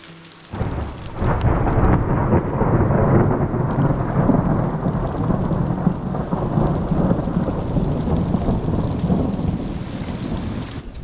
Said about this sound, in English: who doesn't love to watch a good lightning and thunderstorm?